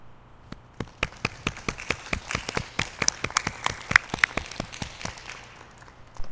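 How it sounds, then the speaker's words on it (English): A modest audience claps at a university fall convocation ceremony honoring an honorary Doctor of Laws, sparse distinct hand claps building to a brisker patter, then thinning out toward the end in a large reverberant hall. "please join me in a round of applause to congratulate Western's newest Honorary Doctor of Laws, Dr. Janet Stewart."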